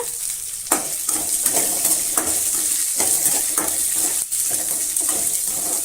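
Shallots and tamarind sauté in hot oil for radish chutney, a loud close sizzle punctuated by repeated spatula strokes and clacks against the pan.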